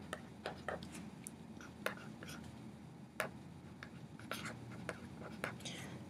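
Quiet pen or marker strokes tap and scratch while math problems are written out, a string of brief, soft, close strokes with short pauses between them.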